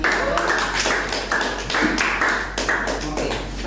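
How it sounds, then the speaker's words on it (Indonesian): A classroom group claps together, a steady stretch of fairly loud applause with uneven bursts, as in a small room full of people. "Berikan tepuk tangan."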